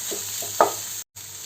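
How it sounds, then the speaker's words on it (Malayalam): Egg masala mixed with chammanthi being stirred in a pan, a soft scraping and light sizzle with one sharper spoon knock, then a brief cut to silence before the gentle cooking noise resumes. "അതിനെയും കൂടി നന്നായിട്ടൊന്ന് ഇളക്കി യോജിപ്പിച്ച് ഇതുമായിട്ടൊന്ന് മിക്സ് ചെയ്തെടുക്കാം"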